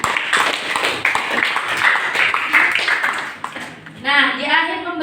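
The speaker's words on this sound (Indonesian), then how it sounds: "Bagus sekali, tepuk tangan." Students in an Indonesian religious education classroom clap together in a dense, rapid burst lasting several seconds, loud and close, before it fades into someone speaking.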